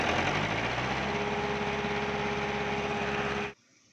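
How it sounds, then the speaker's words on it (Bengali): A JCB engine idles while warming up in the morning, a steady low mechanical drone with a faint high whine, constant and moderately close, cutting off abruptly near the end. "গাড়ি স্টার্ট করে দিয়েছে। ইঞ্জিন এখন গরম করছে গাড়ি।"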